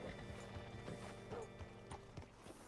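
Horse hooves clip-clop slowly on the ground in the Red Dead Redemption 2 video game, a few soft, uneven steps over a quiet ambient bed.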